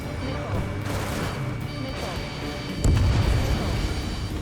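Gunfire aimed at a VIP's vehicle in the aerial combat game Ace Combat 7, dense rattling shots and booms over a continuous engine roar, growing louder and heavier near the end.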